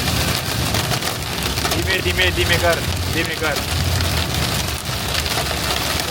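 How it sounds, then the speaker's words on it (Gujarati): Heavy rain with strong wind pounding on a car driving on a road, a dense steady roar throughout, while people talk inside the vehicle. "જુઓ ગાઈસ, જબરજસ્ત વરસાદ, પવન, વરસાદ દેખાય નહીં આગળ કશું"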